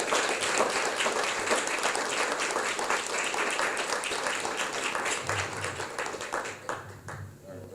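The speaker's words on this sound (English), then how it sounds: "let's give them another warm round of applause" A crowd at a partner appreciation event gives a warm, sustained round of applause with voices talking and cheering over it; the clapping stays full before thinning out near the end.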